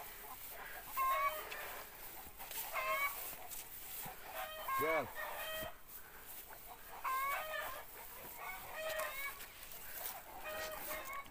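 Chickens cluck in short bursts at a moderate distance while a rooster crows once midway; a person briefly speaks over the farmyard noise.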